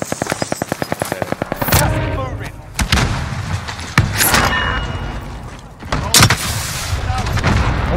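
Rapid automatic gunfire crackles in a battle royale Rebirth match with riot shields, opening with a fast even burst, then heavy scattered shots and blasts with gaps between them, loud and close.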